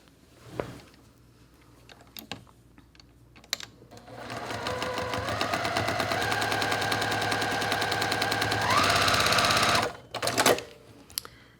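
A sewing machine runs a quilt block seam with one sustained, rapid stitching whir lasting several seconds, close and clear, framed by faint handling clicks before and after.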